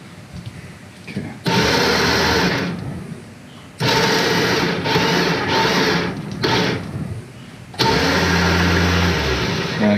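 An otter skinning machine runs in loud mechanical bursts, starting and stopping several times, with quieter pauses between the whirring runs.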